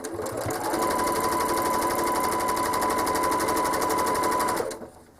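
A home sewing machine stitches a quilt, a fast steady mechanical whir with a rapid needle rhythm held for about four seconds before winding down and stopping.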